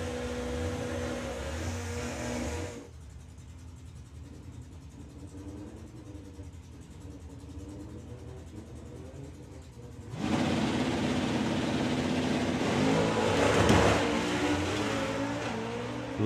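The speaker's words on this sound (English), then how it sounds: "Lots of tyre shake for Kev off the start line." Drag racing cars at the STP Summer Nationals 2023 roar loudly off the start line with heavy tyre shake, engine noise dropping to a quieter distant rumble midway, then surging back as another loud, close run of revving power.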